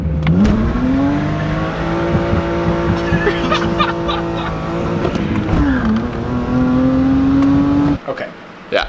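A 1995 BMW 525i with its muffler deleted revs hard and holds high engine speed, a loud steady drone with a dip and rise near the end, voices talking over it.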